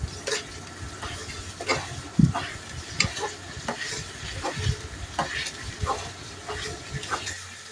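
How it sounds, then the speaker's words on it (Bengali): Herbal hair-oil ingredients with aloe vera gel fry over medium heat in a pan, a steady low sizzle broken by repeated scraping stirs and soft clacks, close and moderately loud with no talking. "আর বেশি হাই হিটে ভাজা যাবে না, এগুলো মিডিয়াম আঁচে ভাজতে হবে"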